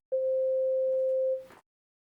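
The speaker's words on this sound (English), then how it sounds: "This is just your basic sine wave right there." A basic sine wave from a MIDI keyboard synth sounds as one clean, steady mid-pitched tone, starting abruptly, holding for over a second, then fading out with a brief rustle.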